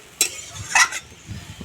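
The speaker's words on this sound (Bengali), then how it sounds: "জল দিয়ে আমি ভালো করে নেড়ে চেড়ে দিচ্ছি" Pointed gourd curry with water added is stirred in a pan, a spatula giving two brief scraping clatters against the metal over a low, quiet simmer, close and otherwise calm.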